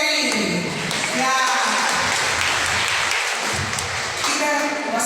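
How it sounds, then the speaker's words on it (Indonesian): Catholic Mass congregation clapping for a group, broad sustained applause from many people with a speaker's voice running over it, loud and close throughout. "Kita tepuk tangan juga untuk kelompok Kelly dan Nelly."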